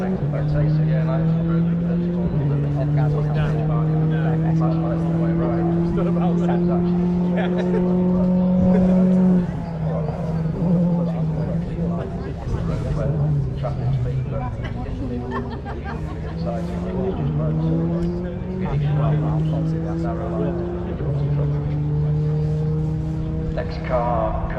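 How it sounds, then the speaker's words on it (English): A rally car on a stage of the East Riding Stages Rally approaches, its engine note climbing and dropping through gear changes, loud and getting closer, while people talk over it. "Next car coming towards us"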